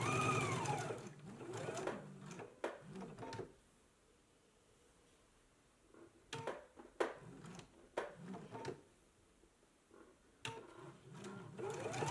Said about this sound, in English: Stitch down this short edge here, pivot, and then stitch down the long edge